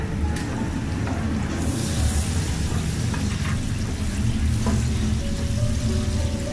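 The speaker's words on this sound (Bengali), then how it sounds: "নেড়ে দিচ্ছি ভালো করে" Onion with garlic and ginger paste frying and sizzling in a pan, with steady close hiss and occasional stirring scrapes throughout, no talking.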